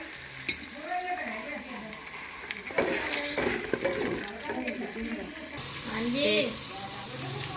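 Hot paste sizzles and hisses in a pan as water is splashed in, with stirring scrapes and a burst of steam, moderately close; a voice talks intermittently over the cooking.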